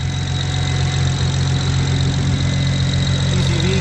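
A built-motor BMW 335i running a single Precision 6466 turbo with Precision wastegate and catch can, idling loud and close with a steady, slightly lumpy rumble and faint turbo whine, no talking.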